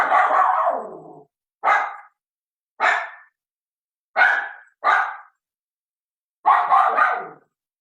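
A female dog barks indoors at home in a series of about six loud, separate barks with short pauses between them, the last one a longer doubled burst; no one speaks.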